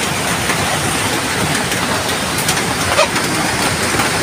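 Steady, dense roar of heavy typhoon rain pouring down, a continuous broadband wash with no pauses and no voices.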